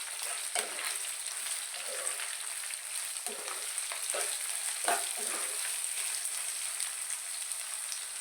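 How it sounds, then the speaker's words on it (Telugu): Chopped onions and green chillies frying in a pan give a soft, even sizzle with a few light stirring scrapes, fairly quiet and without talk. "ఉల్లిపాయలు, పచ్చిమిరపకాయలు వేసుకొని బాగా ఫ్రై చేసుకుందామండి."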